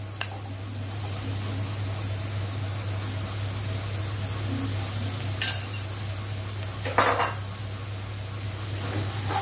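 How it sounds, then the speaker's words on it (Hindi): Chickpeas are tossed and stirred in a pan over high heat, a soft steady sizzle under a constant low hum, broken by a couple of scraping clatters of a spoon against the pan. "अब हम आंच को तेज करके इसमें छोला डालेंगे, छोला को मिलाएंगे।"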